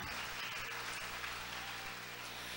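A beauty pageant final audience applauds as a jury member is introduced, a fairly faint, distant and continuous patter of clapping over a low steady hum in a large hall.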